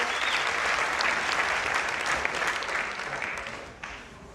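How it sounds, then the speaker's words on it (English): A church congregation claps for Jesus after a healing testimony, a steady, fairly loud wave of applause with scattered cheers that gradually tapers off near the end. "Come on, somebody clap it for Jesus"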